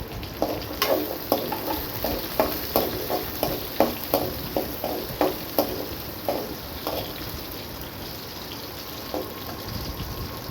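Chunky onions sautéing in oil for a bitter gourd tamarind curry, with a quiet sizzle under a run of spoon taps and stirs on the pan that fade out toward the end.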